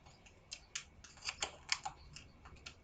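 Scissors snip through a McDonald's Slurpee plastic cup to cut out a hole, giving a run of short, quiet crisp cuts and clicks at close range with no voices.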